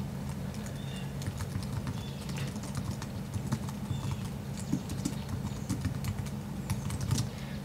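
Keys tap on a computer keyboard as an email address is typed, a fast, uneven run of light clicks close by over a low steady hum, with no voices.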